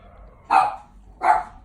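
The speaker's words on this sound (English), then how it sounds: "My apologies, those are my dogs." Two sharp dog barks about three-quarters of a second apart, indoors at moderate distance, over a faint low background hum.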